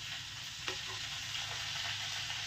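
Okra cooks with red chilli powder in a hot pan, giving a steady, soft sizzle and frying hiss with a few faint stirring scrapes, heard close and alone.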